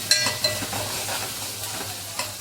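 Onion, green chilli and curry leaves frying and being stirred in a pan give a soft, steady sizzle with scattered crackles and stirring scrapes, close and moderately quiet, with no talk.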